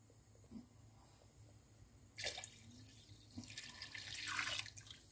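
Water poured into a pot of roasted beef for Peshawari pulao, a splashing rush that starts abruptly midway and continues fairly close, with a short pause before swelling again. No one talks.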